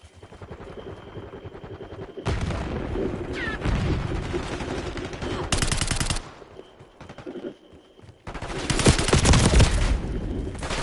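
Gunfire and heavy blasts from a rocket launcher in the shooter video game Black Ops 6, loud, close bursts of rapid fire broken by short gaps and a few booming hits.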